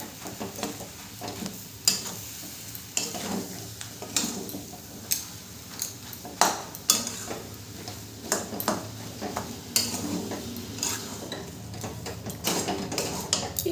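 Mashed potato for Bengali egg chops is stirred and fried in a pan, giving a steady low sizzle punctuated by repeated scraping clacks of a spatula against the pan, close up with no voices.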